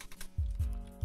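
Fingers type on a computer keyboard, a few distinct clicks spaced apart at close range, with no talking.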